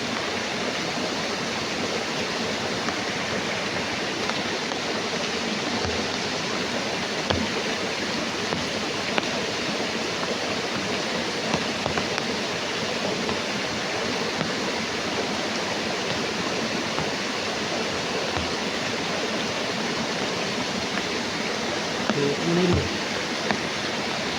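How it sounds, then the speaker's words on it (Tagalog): Heavy rain pours down in a constant, dense roar for the whole stretch, with a few faint low thumps scattered underneath. "Sobrang lakas ng ulan."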